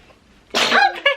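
A single sharp sneeze bursts out indoors after a quiet moment, followed by a short voiced catch of breath.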